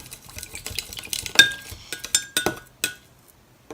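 Melted candle wax being stirred in a glass container, with a run of sharp clinks and scrapes from the utensil against the glass, close and irregular, most of them clustered in the middle and fading near the end.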